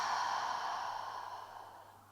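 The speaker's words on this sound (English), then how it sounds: "And exhaling it out." A slow yoga exhale breathes out steadily, a soft airy rush that starts fuller and fades gradually over a couple of seconds, close and alone.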